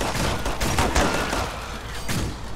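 Loud rapid gunfire in the video game Killing Floor 2, with overlapping bursts of automatic shots forming a dense volley that eases slightly toward the end.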